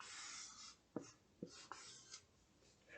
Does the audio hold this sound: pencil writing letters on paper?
yes